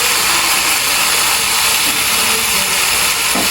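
Food sautéing in a pan during a night-time home cooking session in Jaffna gives a steady, loud, continuous sizzle and hiss, close by, with no talk.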